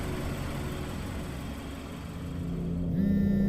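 A car engine runs with a low rumble and then revs up as the car accelerates away, a sound effect in a spoken horror story, heard alone without voices.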